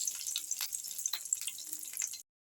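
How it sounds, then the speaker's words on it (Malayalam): Mustard seeds and curry leaves sizzle in hot oil in a pan, a close, continuous bright crackle and hiss with small pops scattered through it, ending abruptly. "ചട്ടി വെച്ചിട്ടുണ്ട്, കടുക് ഇട്ട് കറിവേപ്പില ഇട്ട് മൂപ്പിച്ചിട്ടുണ്ട്."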